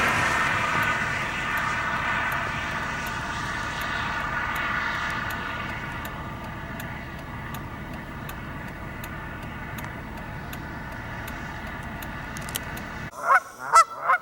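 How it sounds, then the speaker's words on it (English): Geese at a pond, upset and dominant, honk over a steady low outdoor rumble, the calls mostly faint and far until a few loud, close honks burst out at the end. "the geese are the dominant birds here, and these two are very upset with me"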